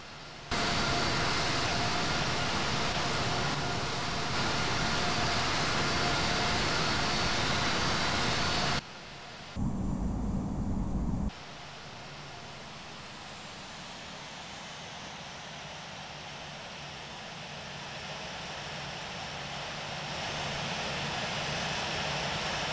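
Qantas heavy jet airliner taxiing to runway 16 right, a steady broadband engine roar heard at a distance, loud at first, briefly cutting out, then continuing at a lower, slowly rising level.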